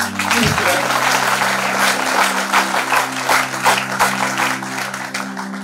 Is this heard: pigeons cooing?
no